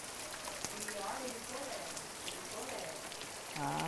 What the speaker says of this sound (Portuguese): Nossa, que chuva, hein?